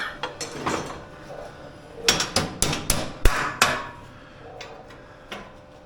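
A hammer strikes repeatedly while fabricating a metal window well grate, a quick series of sharp, close knocks in the middle, with a few lighter taps before and after.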